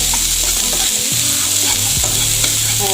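Onions frying in a little vegetable oil, a loud, close, continuous sizzle with occasional stirring scrapes of a utensil through the pan.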